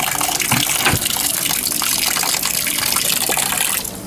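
Water gushes and splashes out through a single valve of a PVC oxyhydrogen wet cell reactor core, a continuous loud pour close to the microphone that drops off near the end.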